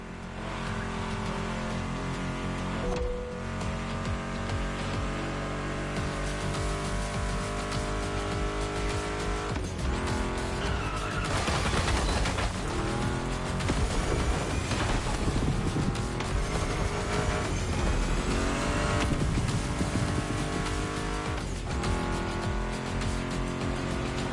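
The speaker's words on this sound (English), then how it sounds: "Meshes well with the sound of the engines" Roaring muscle car engines, including a Mustang GT, in the video game Crew Motorfest rev and accelerate continuously, loud and dense, with tire noise and gear changes layered over a steady mechanical drone.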